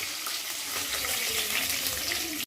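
Mustard seeds, urad dal and curry leaves sputter and crackle in hot oil, a dense, steady sizzle with fine popping close by, ending in a brief clatter.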